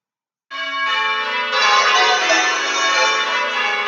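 Church bells rung in changes, a dense continuous peal of many overlapping bell strikes that starts abruptly after a brief silence and stays loud and steady, with no voices.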